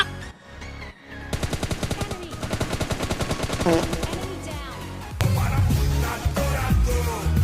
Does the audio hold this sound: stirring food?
no